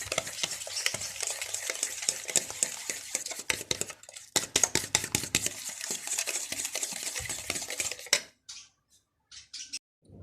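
Sugar is stirred into cream for fruit chaat with a spoon in a bowl, giving rapid close scraping and clinking strokes for about eight seconds before a few scattered taps and then quiet.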